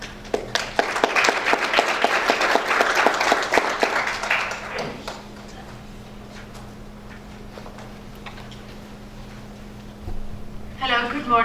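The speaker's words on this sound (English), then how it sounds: "Please welcome her presentation with a warm round of applause" A round of applause from a conference audience at a world journalists' gathering fills the first few seconds, then fades to a quiet room hum, with a voice beginning to speak near the end.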